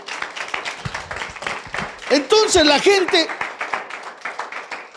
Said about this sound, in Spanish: Dale un aplauso a Dios si lo crees.